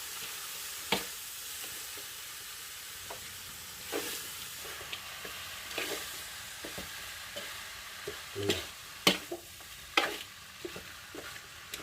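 Pigeon meat stir-fried in a pan: a steady sizzle and hiss runs throughout, broken by irregular scraping stirs and clacks of a utensil against the pan, loud spikes near the end, with no talking.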